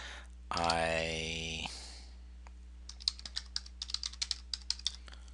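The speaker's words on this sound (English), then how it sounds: "so I'm going to type in interest" Computer keyboard typing in data-entry software: a quick run of crisp, close key clicks in an irregular rhythm, following a short burst of voice at the start.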